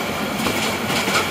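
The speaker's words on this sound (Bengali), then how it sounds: "এই ট্রেনটি কমিউটার ট্রেন, জামালপুর কমিউটার বা দেওয়ানগঞ্জ কমিউটার" A Jamalpur–Dewanganj commuter train rolls through Dewanganj station during flooding, a steady close broadband rumble with faint clattering wheels throughout, with no talk.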